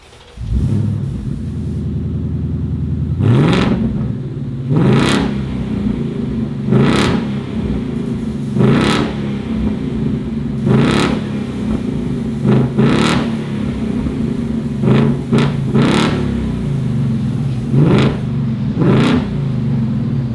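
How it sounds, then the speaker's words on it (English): A car with its muffler cut off idles with a deep rumble, then revs again and again in sharp bursts roughly every two seconds, loud and close, with no voices. "We just chopped off the muffler, so you guys can hear what a muffler delete sounds like"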